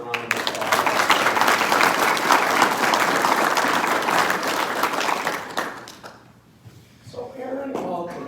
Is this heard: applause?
yes